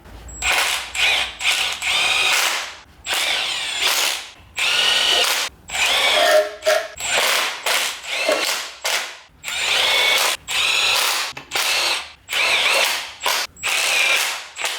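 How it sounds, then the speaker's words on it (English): A power drill drives bolts for the port covers on a Honda H22 cylinder head in repeated short whirring bursts with ratcheting clicks and brief pauses between them, up close. "luckily I have a drill on hand"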